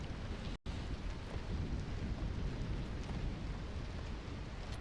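A steady, loud wash of heavy rain with low rumbling fills a thunderstorm in the settlement-building game Against the Storm, continuous throughout apart from a sudden brief dropout.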